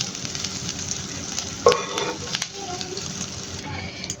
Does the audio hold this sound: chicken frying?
yes